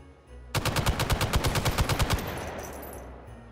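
Rapid automatic gunfire in the VR shooting game Hot Dogs, Horseshoes & Hand Grenades: one loud sustained burst of about twenty evenly spaced shots, then a fading echo, with no talking.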